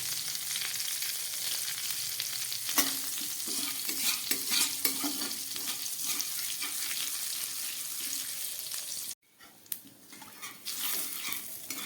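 Panch phoron spices frying in oil after prawns were fried, a continuous close crackling sizzle with occasional stirring clatter, briefly cut off near the end before resuming.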